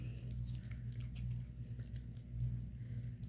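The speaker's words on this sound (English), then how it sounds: "There you can see her just chewing away at it." A Mini Aussie dog gnawing on a Healthy Edibles chew treat, giving soft, close, irregular crunching and clicking bites over a low steady background hum.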